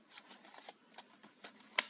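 Keyboard tabs on a Lenovo Z50-70 laptop snap into place as the edges are pressed down, a run of light plastic clicks and taps ending in one sharper, louder click, close and quiet.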